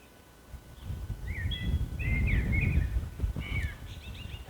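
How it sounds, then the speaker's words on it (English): Birds chirp and sing in short trilling phrases at a moderate distance over a low outdoor rumble, with a few bursts of calls. "Can you hear the birds?"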